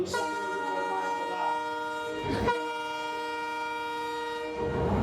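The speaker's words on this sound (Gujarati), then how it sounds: "આવી ગઈ આ ટ્રેન" A train's loud sustained horn blares close by near Rajkot, Gujarat, with rumbling rail noise underneath as the train pulls in; no talking.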